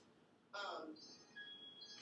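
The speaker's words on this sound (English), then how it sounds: "Sorry about that, I forgot to silence my phone" A mobile phone ringtone goes off during a university lecture on auto insurance: a loud, abrupt burst of stacked electronic tones starting mid-clip, followed by sustained higher ringing notes in a quiet room.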